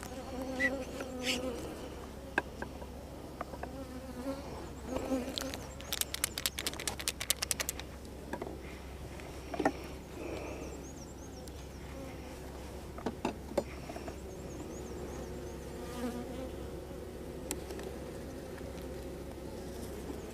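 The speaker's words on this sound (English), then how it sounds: "This hive is gonna explode with some bees here." Honeybees buzz around an open hive with brood, a steady close hum with shifting tones, broken by scattered clicks and rustles of handling.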